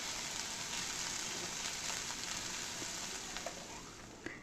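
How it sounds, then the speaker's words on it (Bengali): Radish greens cooked with lentils hiss and sizzle steadily in a pan, a dense continuous fry with faint occasional scraping as the mixture is stirred. "এবার জাস্ট এটাকে একটু নাড়াচাড়া করে আমি নামিয়ে তোমাদেরকে দেখাচ্ছি।"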